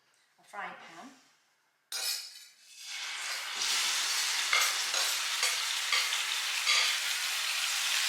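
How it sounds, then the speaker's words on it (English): After a short murmur of voices, food hits hot oil in a frying pan and sizzles loudly and continuously, with occasional clinks and stirring scrapes. "I put a little bit of oil in the pan here"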